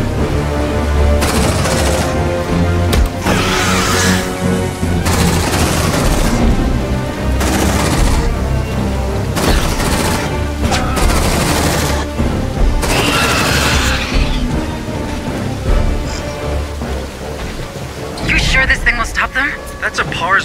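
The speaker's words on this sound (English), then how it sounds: "That's a PARS 150 phase plasma cannon salvaged from a wrecked APC" A PARS 150 phase plasma cannon, salvaged from a wrecked APC, fires in Aliens: Dark Descent, giving loud, repeated heavy bursts in clusters across about twenty seconds, with voices talking over the barrage.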